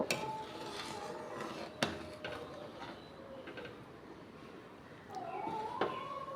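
Moong and masoor dal with salt and turmeric is stirred in a pot, with faint scraping and occasional clinks of a utensil against the metal, quiet and close.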